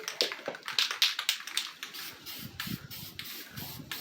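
Short hissing bursts of a cheap aerosol spray paint can, repeated in quick pulses close by outdoors, with faint taps between sprays.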